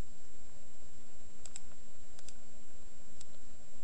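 Computer mouse buttons click in a game level editor, a few sparse, faint, sharp clicks over a steady low hum.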